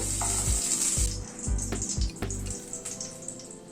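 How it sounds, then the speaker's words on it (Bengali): Capsicum lightly tossed and fried in a pan, a bright continuous sizzle with a few soft knocks as the pieces are shaken, close and fairly loud. "ক্যাপসিকামটা হালকা করে টস করে নিলাম।"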